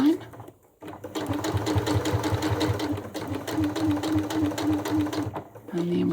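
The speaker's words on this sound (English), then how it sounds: "Put your seam guide down so you can sew a nice straight line." A domestic sewing machine stitches a straight seam along a zippered cushion made from a quilt block, its close, steady rapid chatter running almost the whole time with a brief pause near the start and someone talking over it.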